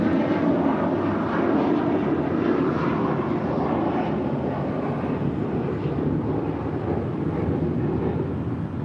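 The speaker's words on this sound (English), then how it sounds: "This is Air Canada 790 departing to Toronto on an A321" An Air Canada Airbus A321 airliner departs LAX for Toronto, its engines a steady, loud roar holding level for the whole stretch with some wind buffeting, no talk over it.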